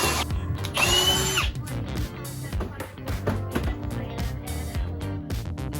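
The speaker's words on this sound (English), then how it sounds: "I drill pocket holes on both sides of my bottom piece for the shelf" A power drill bores pocket holes into the wood bottom piece of a desk shelf, a loud whining burst near the start followed by repeated shorter revving pulses and knocks, close and alone without talk.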